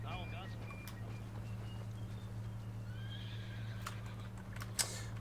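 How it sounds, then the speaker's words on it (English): A horse gives a short neigh in the strategy game Grand Campaign, faint against a steady low hum, with light clip-clop and a small click near the end. "you heard it there, you heard the little neigh"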